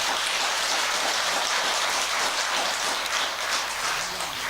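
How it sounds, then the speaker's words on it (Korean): An audience claps together at a Sunday family dharma service at a Buddhist hall, a dense, steady wash of applause filling the room from start to finish without any voices. "박수 한번 치세요."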